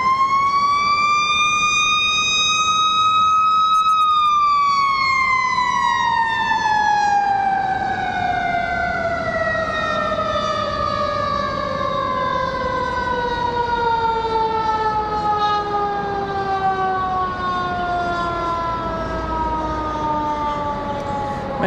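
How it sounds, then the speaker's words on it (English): A loud airport fire truck siren at Raleigh-Durham International Airport wails close by, its pitch holding high and then sliding steadily downward as it passes and recedes, with road rumble underneath. "So the fire truck coming out as well as the other fire truck SUV."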